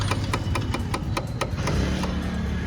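Rhythmic ticking rattle from a worn handlebar cone set on a Royal Enfield GT650 motorcycle, regular sharp taps about five per second over a low engine hum, fairly quiet with no talking.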